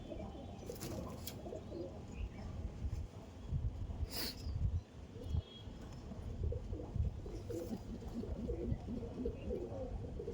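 Andhra pigeons released by hand outdoors, with soft repeated low coos and scattered bird calls over steady background noise and wind, moderately close, with no talk.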